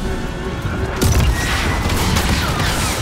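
A gunshot in the video game Star Wars Jedi Survivor rings out as a loud, sudden blast about a second in, followed by crashing and rumbling battle effects.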